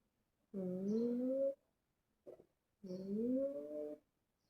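Two drawn-out cat meows, loud and close, separated by a short pause with a brief soft chirp between them.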